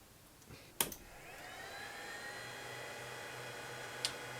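A Summit Extreme X450e network switch powering up, with a click and then loud cooling fans spinning up into a steady rising whir that holds on, and a second click later.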